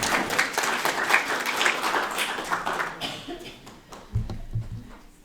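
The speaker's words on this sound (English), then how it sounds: "Let's give Mr. Plotzki a round of applause." Applause from parents at a school coffee session, a burst of clapping in a small room that fades after about three seconds, followed by a brief low voice.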